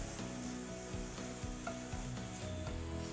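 Soft sizzling and scraping as coconut powder is stirred into a dish in a cooking pan for a South Indian vegetarian meal, with a steady, quiet rhythm of spoon strokes and no talking.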